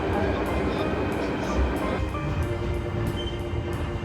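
A Beijing subway train rumbles steadily at close range, giving a continuous loud roar with a faint rhythmic clicking over it and no clear talking.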